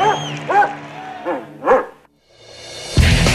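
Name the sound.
dog barking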